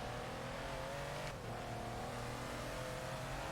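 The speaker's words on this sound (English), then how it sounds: "that RS car is making some noises there" A Ford RS car in Forza Horizon 4 drones steadily with a constant engine note, a brief rising whine near the middle, continuous and fairly close, with no talking.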